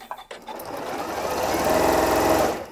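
A Janome M8 sewing machine winds up to full speed with the foot control pressed all the way down, a fast rhythmic mechanical whirr that builds after a brief clatter and holds loud and steady before easing off.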